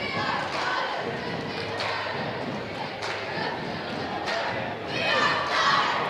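Steady murmuring crowd noise from the Morton student section filling Sanderson Gymnasium at a high school volleyball regional final, with occasional thuds and shouts rising toward the end.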